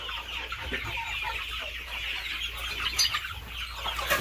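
Several free-range country chickens on a poultry farm cluck and murmur continuously, with soft overlapping calls over a steady hum of background noise.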